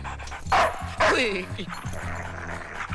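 A dog barks and yips in a couple of sharp bursts near the start of a Hindi comedy scene, with voices and background sound continuing around it.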